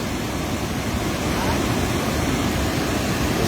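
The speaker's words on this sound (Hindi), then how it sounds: "देखिए यहीं से पानी को छोड़ा जा रहा है और नीचे कितना बहाव है" Water released from a dam roars as a broad, steady rush of flow below, loud and constant throughout the clip.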